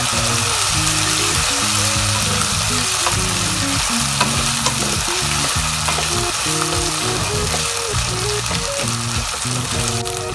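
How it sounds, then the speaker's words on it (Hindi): Chili paste sizzles and fries loudly in a pan while being stirred, a dense steady crackle throughout, cooking for stuffed bitter gourd with no talk. "और मिर्ची के पेस्ट को इसके अंदर डाल देंगे।"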